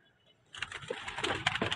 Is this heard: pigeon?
yes